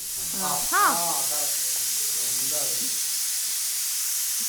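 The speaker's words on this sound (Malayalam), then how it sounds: "ഇതേ കുക്കർ ഒച്ചയൊക്കെ ഇട്ട് തുടങ്ങി" A pressure cooker cooking mutton gives off a steady, fairly loud hiss throughout, with short bursts of voices over it near the start and middle.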